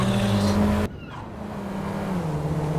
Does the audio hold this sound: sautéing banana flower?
no